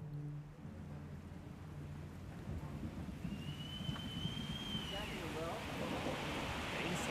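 Heavy rain pours steadily in Afghanistan, a dense, continuous hiss close by, with a faint low rumble underneath and no talking.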